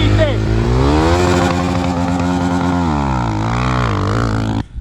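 A Moto Pro RF250 farm motorcycle runs a speed test, its engine revving loudly and climbing through the gears close by, pitch rising and falling steadily without a break.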